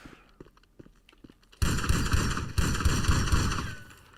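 Sparse gunshot-like pops in GTA 5 Online open the clip, then a loud, sustained roaring burst of heavy fire or explosions kicks in abruptly and continues steadily to the end.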